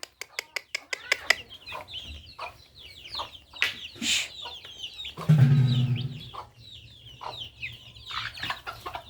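Chickens and young chicks cluck and chirp at a feeding call, with a run of sharp taps at the start and busy, fairly close clucking throughout; a person briefly calls to the birds.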